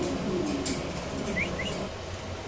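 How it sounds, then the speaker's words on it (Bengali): A pair of fancy pigeons of the Mundian type give a few faint, brief chirps and soft coos over a low background hum. "এখানে আছে আরেক জোড়া মডার্ন কবুতর"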